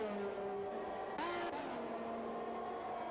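Formula 1 race cars in the F1 2021 racing game, a steady engine whine on a straight with shifting pitch and a brief burst of noise as another car closes in.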